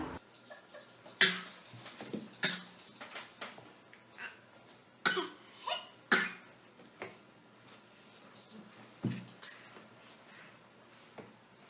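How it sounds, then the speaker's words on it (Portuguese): A baby eating solid food during baby-led weaning gags and coughs in sharp, irregular bursts, fairly quiet and close, with silent gaps between them. "ele vai fazer como se estivesse com uma ânsia de vômito mesmo, para colocar o alimento para fora"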